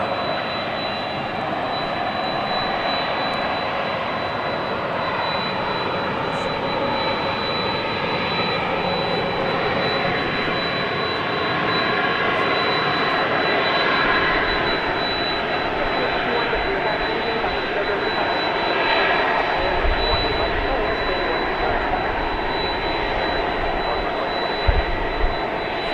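Jet airliner at DFW airport at night, a steady loud roar of engines sustained across the whole stretch, with faint voices in the background and a few thumps toward the end.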